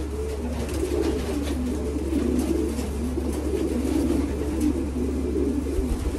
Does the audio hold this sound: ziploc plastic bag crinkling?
no